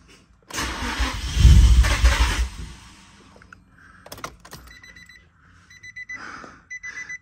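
A Nissan Stag NM35 engine cranks and catches on its first start-up, a loud rough burst that settles and fades within a few seconds, followed by scattered clicks and faint beeping tones.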